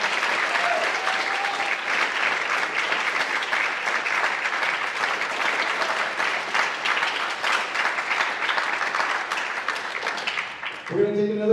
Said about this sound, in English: One more round for the Symphonic Band.